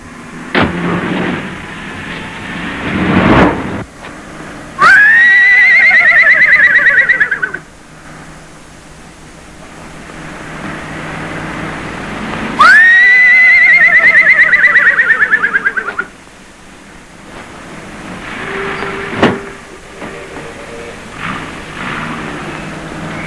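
A voice imitates a horse whinnying on a comedy film set with a colt, two long quavering neighs, loud and close, separated by quieter stretches with a sharp knock or thump between them.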